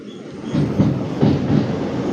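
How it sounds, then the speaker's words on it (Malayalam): A train rolls across Pamban bridge on the Rameswaram line with a steady, close rumble and rhythmic wheel clatter that swells in pulses throughout. "അങ്ങനെ നമ്മുടെ ട്രെയിൻ പാമ്പൻ പാലത്തിന് മുകളിലൂടെ കയറിയിരിക്കുവാണ്"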